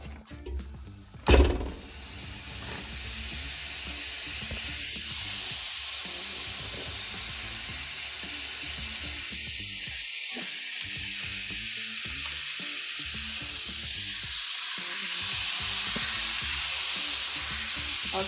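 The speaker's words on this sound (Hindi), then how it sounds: "अब मैं डाल रही हूँ 250 ग्राम मक्खन।" Butter, 250 g, melts in a hot pan with a soft continuous sizzle and faint hiss, a sharp clank near the start, then quieter frying texture with light stirring.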